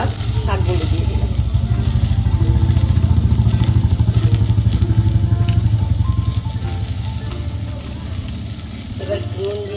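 Data shak, leafy stem greens, hitting a hot pan with a loud, steady sizzle and frying hiss, with stirring and scraping in the pan. The sizzle eases slightly toward the end.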